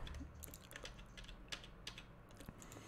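Quiet, rapid clicking of keys on a computer keyboard, a short burst of irregular keystrokes close by with no voice over it.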